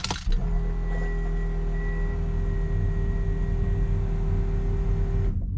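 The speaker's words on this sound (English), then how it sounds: "that's a fuel pump" A steady electric whir with a constant tonal hum from a car's fuel pump holds for several seconds, then cuts off near the end.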